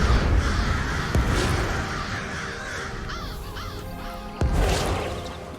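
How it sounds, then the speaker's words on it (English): Crows caw repeatedly in the Elder Scrolls Online game world, several harsh calls rising over a steady layer of ambient game sound, with one louder burst near the end. "There was birds."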